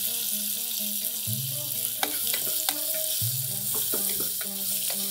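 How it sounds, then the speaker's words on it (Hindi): Onions with green chili and a pinch of salt fry in a pan for Hyderabadi-style bagara baingan, a steady close sizzle broken by a few sharp clinks and scrapes of stirring. "जब तक ये प्याज अच्छी तरह फ्राई हो जाता है"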